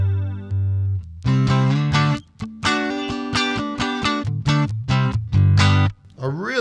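A Fender Player Series electric guitar plays through a PastFx Mischief Rat-style distortion pedal into a Marshall Astoria amp, giving loud, crunchy distorted chords and notes in a choppy, rhythmic riff with short gaps.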